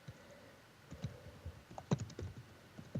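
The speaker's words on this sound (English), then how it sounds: "I'm assuming that's Hannah typing" Someone typing on a computer keyboard, a few quick bursts of soft clicking keystrokes at close range, fairly quiet and irregular.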